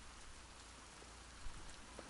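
Steady rain in The Last of Us Part II, a faint, even hiss of falling drops with no voices.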